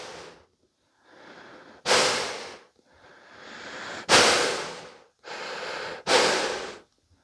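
Heavy breaths push out through a BASE CAMP M Pro dust mask, close and loud. There are about six harsh exhalations in an uneven rhythm, the strongest ones coming in sudden bursts.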